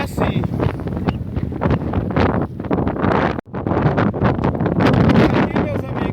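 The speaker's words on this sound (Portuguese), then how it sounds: "Enquanto chover, pessoal, é desse jeito o vento." Strong rainy-season wind at sea buffets the microphone where someone is trying to fish, producing loud, gusting roars throughout with a brief lull, while a person talks under it.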